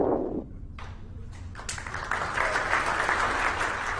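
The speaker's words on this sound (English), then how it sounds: "met with a good cheer from our team" A launch team watching the TROPICS storm-tracking satellite launch breaks into cheering and clapping at engine cutoff, starting faintly and swelling into steady, fairly distant applause that carries on to the end.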